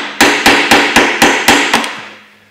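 Hard metal strikes ring out on a stuck part of a 2012 Ford Focus Mk3 1.6-litre five-speed manual gearbox, about seven sharp, evenly spaced blows, loud and close, each trailing a brief ring.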